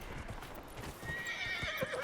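Horse hooves clip-clop in Dragon Age: Inquisition as a character rides, a steady trotting rhythm of soft thuds with a whinny rising near the end, moderately close.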